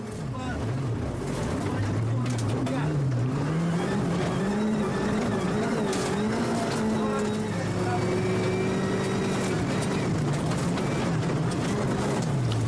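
Rally car roaring along a gravel stage in melting snow and ice, heard from onboard at the ERC Liepāja rally, engine droning and rising and falling through gear changes continuously, with a voice talking over it.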